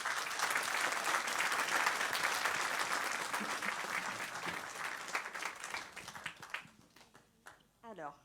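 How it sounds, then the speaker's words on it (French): A ceremony audience gives hearty applause, dense and sustained for several seconds before thinning out and fading, with a voice speaking briefly as it dies away. "je voudrais que l'on vous applaudisse bien fort"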